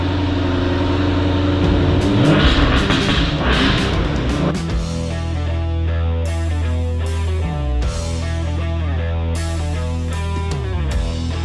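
A 2015 Jaguar F-Type R with a 5-liter supercharged engine and automatic transmission revs up loudly at a wrecking yard, then settles into a steady, droning run close by.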